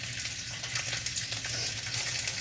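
Sliced ginger frying in a pan for sweet and sour chicken, a continuous close sizzle and crackle of hot oil with a low hum underneath.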